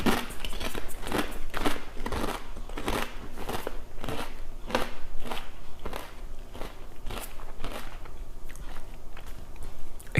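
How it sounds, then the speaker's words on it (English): Someone bites and chews Kettle crisps, oak smoked garlic flavour, close to the microphone, with a steady run of crisp, brittle crunches over about ten seconds and no talking. "I don't really want you sitting here listening to me crunching away"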